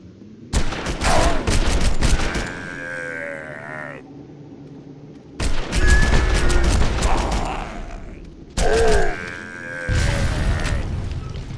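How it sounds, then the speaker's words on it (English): Gunfire in the Red Faction II video game comes in three separate loud bursts of rapid shots, each a few seconds long, mixed with other game sounds and separated by short quieter gaps. "Shoot him in the head."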